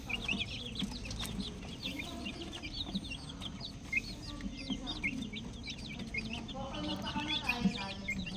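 Young brown Rhode Island chicks and chickens cluck and peep close by in a quiet farm setting, a busy scatter of short high chirps over soft low clucking, with faint talk in the background.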